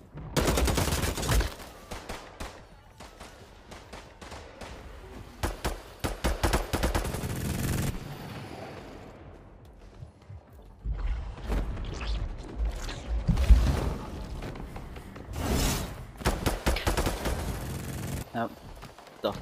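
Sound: minigun firing in a video game

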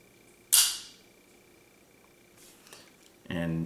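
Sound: Uberti SAA Peacemaker revolver firing

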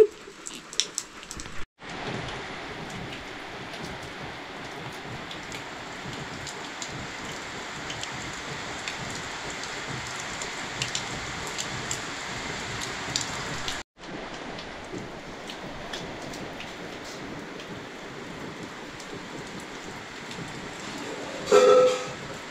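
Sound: rain falling

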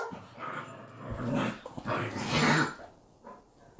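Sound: dogs growling

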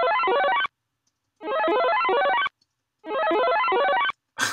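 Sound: synthesized sound like Mario Brothers power-up

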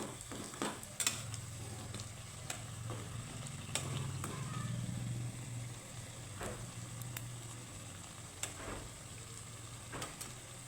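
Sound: potato snacks frying in oil

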